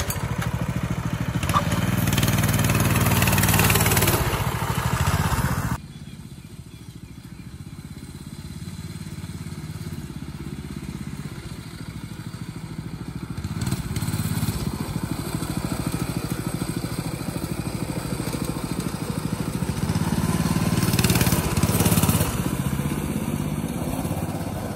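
A motorbike engine runs continuously for a long stretch, a rough mid-pitched drone that dips partway through then swells again as it revs.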